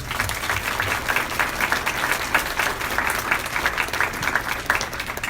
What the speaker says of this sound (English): any previous angels in the room, love to give them a round of applause.